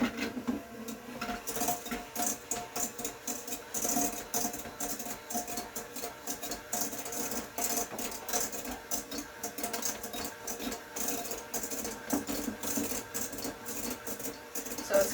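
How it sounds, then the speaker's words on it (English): A hand mixer whirs continuously through sugar for unicorn cookie dough, a busy, rattling mechanical drone with rapid clicking texture, steady and moderately quiet for the whole stretch, with no voices. "you need a hand mixer to do this next part."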